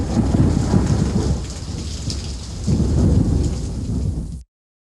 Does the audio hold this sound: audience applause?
no